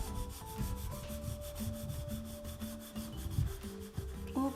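Graphite pencil shading dark strokes on paper, a soft, close scratchy rubbing in quick repeated back-and-forth strokes over faint background tones.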